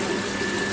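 Water drains steadily from a pipe test rig used for a Bernoulli's theorem demonstration, a loud continuous rushing gush with a faint pump-like hum beneath and no voices.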